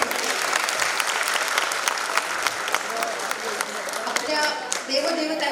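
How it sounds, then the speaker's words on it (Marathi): Audience applause at a community unity ceremony in Maharashtra, a dense sustained round of clapping from a crowd, fairly loud throughout, with some voices mixed in toward the end. "त्यांचं खरंच टाळ्या वाजून परत एकदा स्वागत करतो."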